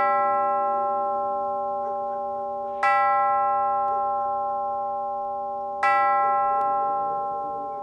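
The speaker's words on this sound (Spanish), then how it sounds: "Las 12 sonaron en el reloj del postigo." A clock bell used as an audio drama sound effect strikes twice, a few seconds apart, with each resonant ringing tone decaying slowly.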